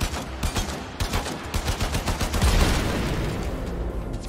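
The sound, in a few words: gunfire and explosion in the video game Warframe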